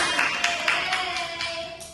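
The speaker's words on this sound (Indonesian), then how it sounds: "Berikan tepuk tangan." Classroom clapping in a microteaching lesson: a couple of seconds of light, fairly faint rhythmic applause with distinct claps roughly every quarter second, heard without speech.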